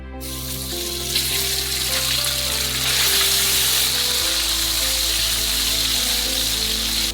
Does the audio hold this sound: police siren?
no